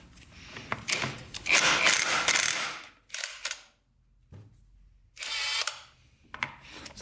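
Power tool work loosening a 30mm nut on a Yamaha YFZ450 quad, several close bursts of buzzing, whirring impact or drill noise separated by short pauses and clinks of metal.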